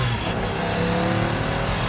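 Pagani Huayra, a fully carbon-fiber car built as one of 100, surges hard through corners, a loud sustained engine roar holding a rising drone from inside the cabin, heard alone without talk.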